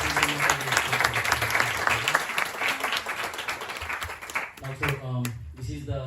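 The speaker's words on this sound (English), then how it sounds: "Let's give a big round of applause." An audience claps loudly at a devotional Hare Krishna gathering in Columbus. Voices and music run under the clapping, which fades toward the end as speech takes over.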